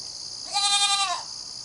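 On a homestead, a goat lets out a single clear, wavering bleat lasting about half a second, fairly close and standing out alone over quiet background noise.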